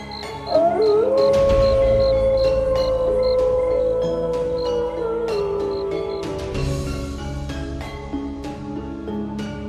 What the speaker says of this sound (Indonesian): Tangisannya terdengar seperti serigala.